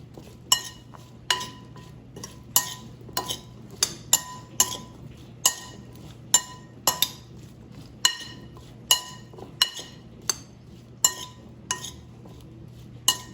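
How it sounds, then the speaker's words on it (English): Potato fries coated in oil are tossed in a bowl, making repeated sharp clinks and knocks at an uneven pace, roughly one or two each second, over a quiet low hum. "let's toss the potatoes so they're evenly coated with oil"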